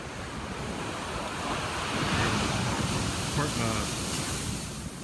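Pacific Ocean surf rolls onto a beach at a Cabo San Lucas resort, a steady wash of breaking waves mixed with wind buffeting the microphone.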